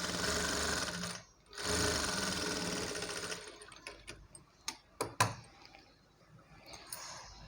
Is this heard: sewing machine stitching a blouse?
yes